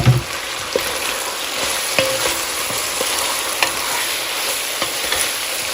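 Squash, pepper seasoned, sizzles steadily in a pan while a utensil stirs it, with scattered scraping knocks over a constant frying hiss and no voices.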